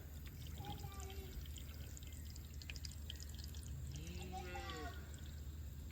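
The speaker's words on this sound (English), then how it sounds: "I hear water flowing." Faint water runs through household plumbing after a toilet flush, a soft continuous pouring trickle with a few thin squeaky tones rising over it.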